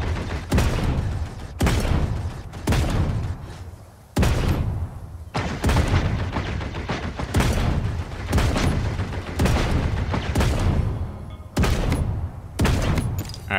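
Gunfire in the battle royale game Realm Royale: loud, close bursts of rapid shots repeating roughly every second or so across the whole stretch, with brief gaps between volleys.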